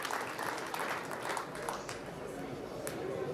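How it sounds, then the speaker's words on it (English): Crowd at a Las Vegas pool tournament bursting into steady applause after a shot, a dense sustained clapping wash that holds at even loudness through the clip, with commentators' voices faintly mixed in. "you can hear the crowd erupting at that shot."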